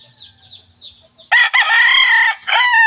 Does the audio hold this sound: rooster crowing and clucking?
yes